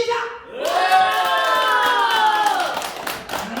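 Clapping and cheering from an audience at a small theatre in Yeongdeungpo rise to a loud, steady roar, with a high whooping voice riding over the crowd noise throughout.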